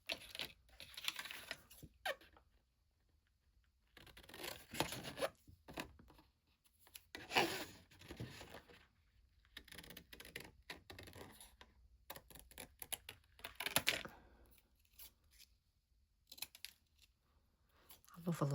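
Paper being cut out with scissors for a handmade journal page: repeated snipping and rustling strokes in bursts with short pauses, close to the microphone, with a voice talking at times.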